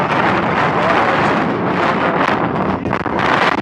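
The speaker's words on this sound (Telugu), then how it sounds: "గాలి ఎక్కువ వస్తుంది." Strong wind buffets the microphone at Rushikonda Beach in Vizag, a loud continuous roar of gusts filling the whole clip with no clear speech.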